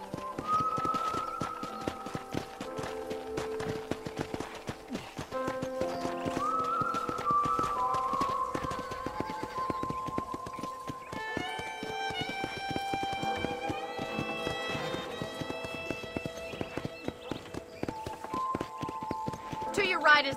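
A horse's hooves clip-clop steadily through Red Dead Redemption, a rapid run of hoofbeats under a bed of whistled, tuneful music and a voice.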